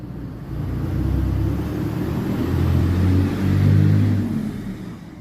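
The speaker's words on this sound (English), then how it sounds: "Sorry, there was a truck passing this way." A truck passes on a road with a low, rumbling engine drone that swells and fades over a few seconds and holds close and fairly loud, with no voices over it.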